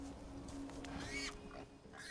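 Pig oinking in the video game Divinity Original Sin 2, a few short snorting grunts close up, fairly quiet against faint game ambience.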